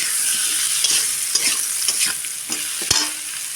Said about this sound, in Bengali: ভাজা ভাজা করে নিলাম।